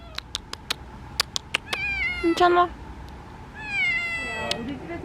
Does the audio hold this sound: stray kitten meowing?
yes